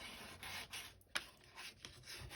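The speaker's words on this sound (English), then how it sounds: "Then you want to burnish all your lines really well." Soft rubbing strokes of a tool burnishing fold lines on a paper stepper card, quiet and close, with one sharp tap midway.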